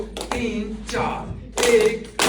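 A group claps together in slow, rhythmic bursts as a welcome at a senior citizens' dinner, a voice counting beats over the claps.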